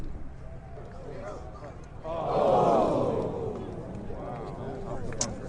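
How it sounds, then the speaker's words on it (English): Golf gallery at the Presidents Cup in San Francisco, its murmur swelling into a loud roar for a couple of seconds before settling back to a hum, with a commentator talking over it. "Love the crowd sounds"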